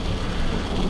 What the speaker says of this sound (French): Et ça y est, il pleut, il mouille, c'est la fête à la grenouille.